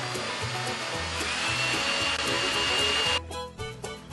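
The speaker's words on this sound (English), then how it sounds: "Drill a hole here." A power drill whines steadily while boring a hole through an acoustic guitar during a repair, close and continuous for about three seconds before winding down and stopping.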